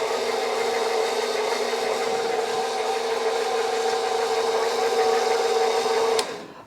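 A KitchenAid stand mixer with its dough hook kneads bread dough, a steady loud mechanical whir with a constant motor hum that runs evenly for about six seconds, then cuts off abruptly.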